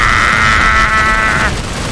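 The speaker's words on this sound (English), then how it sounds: "Grenade! Rush!" Grenade blast in the video game PlanetSide 2, a loud sustained boom with a bright midrange roar that cuts off abruptly after about a second and a half, leaving a low rumbling game background.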